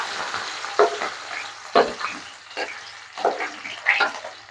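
Chopped green chilies and cumin frying in hot oil, a steady crackling sizzle with sharper spits and pops as pieces hit the pan and get stirred.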